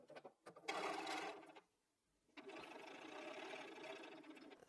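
A sewing machine stitches quilt fabric for a pineapple block in two close, steady bursts of rapid needle whirring, separated by a short pause of near silence.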